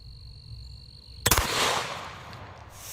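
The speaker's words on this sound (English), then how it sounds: "Subsonic 4-bore coming at a ceramic plate." A suppressed subsonic 4-bore rifle fires at a ceramic plate: after a quiet stretch with a faint tone, one sharp loud crack and shattering impact hits, followed by a brief decaying rumble.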